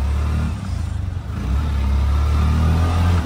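An auto rickshaw engine revs as the three-wheeler is driven by a learner, a steady low mid-range drone that swells and dips briefly before climbing again, loud and close throughout.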